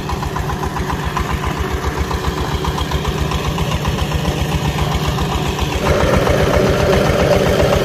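A rented diesel engine runs at a gold mine in Mali, a steady pulsing idle with a rapid regular throb that grows a little louder near the end.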